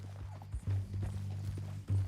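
Horse hooves clip-clop steadily in Red Dead Redemption 2 while a rider is carried along tied up, the irregular thuds sitting over a low droning background hum.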